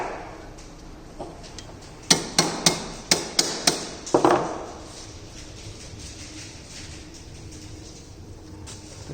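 A hammer strikes the corners of a sheet metal tray during finishing in a metal shop, about eight sharp, ringing blows in a quick, uneven burst near the middle, with quiet workshop background before and after.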